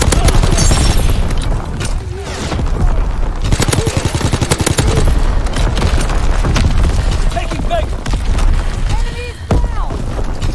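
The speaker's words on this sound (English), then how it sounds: "Too many explosions." Dense gunfire and heavy booming blasts from a video game fill the whole stretch, with a voice speaking over the loud, chaotic battle noise.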